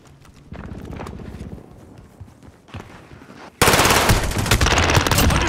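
Video game gunfire with bursts of rapid shots, a quieter early stretch giving way to loud, dense firing in the last two seconds, with horse hooves and clatter mixed in.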